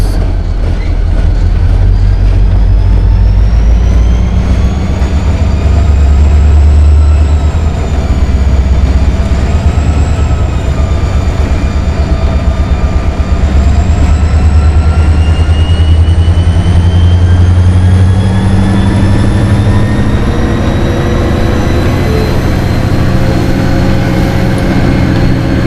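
A freight train with an SD40-2 locomotive passes close by at Coffey's Cliff, a loud sustained rumble with wheel clatter on the rails and rising, squealing metallic tones sliding upward over the final stretch.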